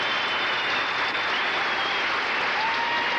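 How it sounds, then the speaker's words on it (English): A basketball crowd in a high school gym, 1978-79 season, applauds an injured player: dense, steady clapping fills the space at moderate loudness for the whole stretch, with no voices standing out. "He gets a fine hand from this crowd."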